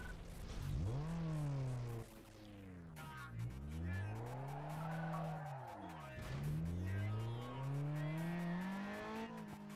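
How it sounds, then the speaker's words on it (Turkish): Modified car in Need for Speed Underground 2 revving and accelerating through gear changes, its engine pitch sweeping up and falling in repeated arcs, with tire squeal and skidding over the loud, continuous engine drone. "Şimdi sesi değişti mi arabanın?"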